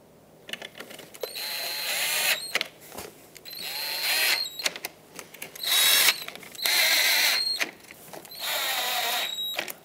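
A cordless power driver runs screws into the plastic grille trim of a 2014–2021 Mazda 6 bumper in about five short whirring bursts with brief pauses between them, close up and clear.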